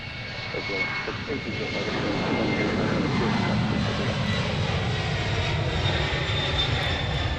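A jet airliner, a light Boeing 767, departs from Portland International Airport, its engines roaring as a broad, steady rumble that swells and stays loud throughout, with no talking.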